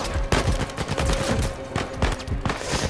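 Dense, close gunfire from a firefight in Uncharted 4, rapid overlapping shots and bursts hammering continuously at high loudness with no pause, and no voices heard.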